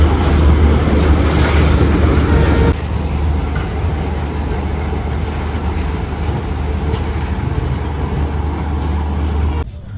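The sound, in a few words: passenger train departing from Kamakhya station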